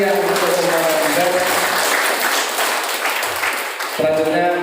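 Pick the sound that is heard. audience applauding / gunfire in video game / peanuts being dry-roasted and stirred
audience applauding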